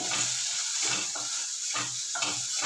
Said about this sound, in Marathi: एक चमचा फुटाणे ते देखील ओबडधोबड करून घेतलेले आहेत ते देखील तेलामध्ये परतून घेऊ